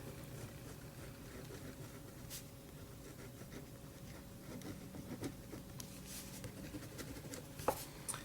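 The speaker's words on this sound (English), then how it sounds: "Give you a little writing test." A pen writing on paper in a quiet room during a writing test, faint scratchy strokes and light taps coming in short irregular bursts, close and soft.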